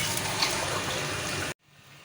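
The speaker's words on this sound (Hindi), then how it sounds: "अब इसके अंदर पानी डालने लगी हूँ" Water poured from a glass into a pot of fried taro root (arbi) and potatoes: a steady, close gushing stream that runs evenly, then cuts off abruptly, leaving a quiet hiss.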